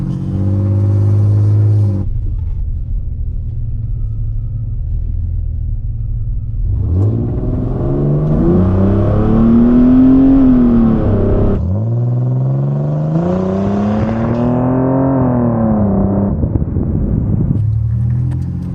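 A stock V6 Pontiac Fiero running a 75-shot of nitrous, idling loudly, then pulling hard in two long rising revs with a shift break between them, engine rumble dominant and no talking.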